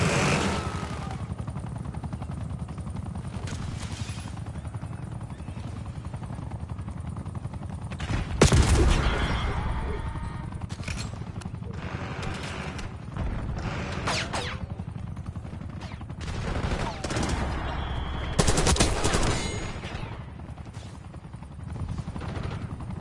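The Archangel killstreak in Call of Duty Black Ops 6 fires repeated loud bursts of gunfire and heavy impacts over a steady background rumble, in several clusters spread across the stretch.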